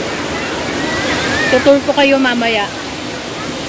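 Malaguicay Falls in Barangay Malaguicay, Abuyog, Leyte, gives off a steady rushing waterfall roar that fills the whole scene, with people talking over it.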